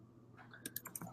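Computer keyboard being typed on: a short burst of light clicking keystrokes, faint and close, over a low background hum with no talking.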